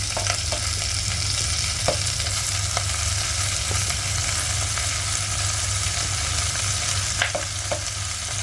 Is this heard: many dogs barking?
no